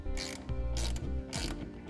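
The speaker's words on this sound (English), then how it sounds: "It's 11 millimeter. We'll go ahead and tighten that down." A ratchet wrench tightening an 11 mm bolt on a Pace Edwards Full-Metal JackRabbit hard tonneau cover, making three loud, close bursts of rapid clicking separated by short pauses.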